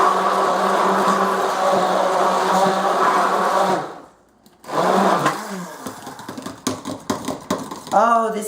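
A blender whirs through frozen strawberries for a smoothie, a loud steady motor drone that cuts off abruptly, then restarts briefly before giving way to clattering handling sounds and a voice.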